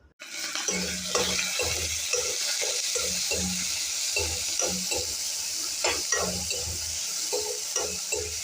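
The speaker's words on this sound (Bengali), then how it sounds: "এটা একটু ভালো করে ভেজে নেব" Shrimp, whole onion, garlic cloves and green chillies fry in mustard oil, a steady hiss of sizzling under repeated scraping and stirring strokes of a spatula in the pan.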